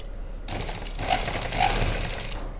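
A sewing machine stitches the lining of a padded blouse in one continuous mechanical whir that starts after a short pause and runs to near the end, fairly close and with no talking.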